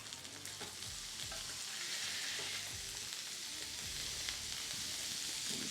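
Smashburgers sizzle on a Ninja griddle, a faint but steady hiss with scraping and spatula knocks as the patties are flipped, and no one speaks.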